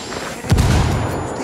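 A grenade blast in the video game Ghost Recon Wildlands: a single loud, deep boom lands partway through and rumbles on, followed by a lingering low roar.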